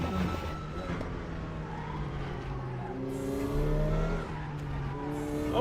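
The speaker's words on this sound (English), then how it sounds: "Okay, there's some tire screeching." Tires of a Lamborghini Temerario squeal during a race in the Raceroom racing sim, with rising and falling engine revs and gear changes and skidding tones under a constant road roar; no talk.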